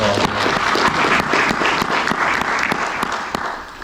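An audience claps loudly and steadily for a presenter at a talk on workplace culture, a dense sustained round of applause that tapers slightly toward the end.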